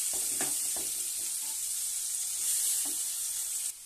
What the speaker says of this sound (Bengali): পেঁয়াজ দিয়ে ভালো করে এবার ভেজে নিচ্ছি